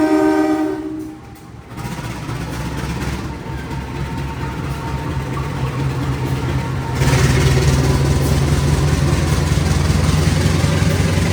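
A train pulls through Jatinegara station in Jakarta at night, a steady rumble of wheels and engine that swells louder partway through, with a brief horn-like tone at the start and no talk.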